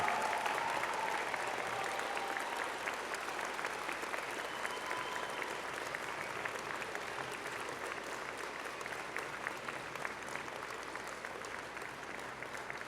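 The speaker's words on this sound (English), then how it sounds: "I ask your friends and family to join me in applauding the amazing 50th anniversary graduating class of June 2016." Sustained applause from friends and family for a graduating class at a university convocation ceremony, a dense, even roar of many hands clapping that holds steady throughout and fades slightly toward the end.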